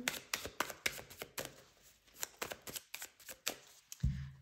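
Tarot cards are shuffled by hand for a reading, giving a close, crisp series of rapid riffling and tapping clicks in a quick irregular rhythm, followed by a short low thump at the end.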